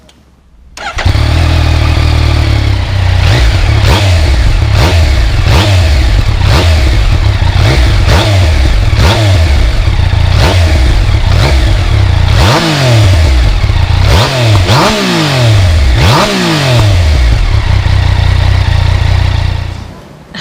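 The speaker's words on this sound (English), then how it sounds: "Time for a little bit of noise testing with my posh microphone so you get a better feel of how this engine sounds." A Yamaha Niken GT three-wheeled motorcycle with an inline-triple engine starts, then revs repeatedly in sharp rising and falling blips, close and loud, settling into idle between pulls.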